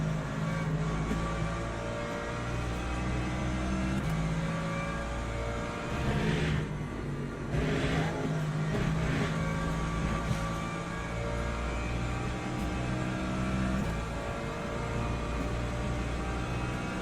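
A race car engine coasting in the racing game Le Mans Ultimate, a steady droning hum with low engine tone and brief swells, continuous and moderately loud without talk.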